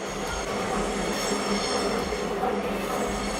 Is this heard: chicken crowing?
no